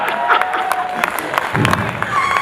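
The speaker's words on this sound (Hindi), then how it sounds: "जोरदार तालियां, बहुत आभार।" Applause and cheering from the audience at an All India Kavi Sammelan poetry recital, with dense clapping and crowd noise throughout and a voice speaking over it.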